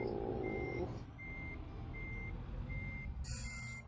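Reversing beeps from a truck in Euro Truck Simulator 2 sound as four evenly spaced, steady electronic tones over a constant engine rumble, followed by a sharp hiss of released air near the end.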